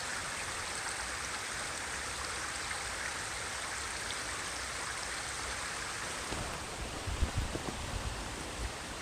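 A small stream of water flowing along a hiking trail, a steady broadband rush close by with a few faint knocks near the end.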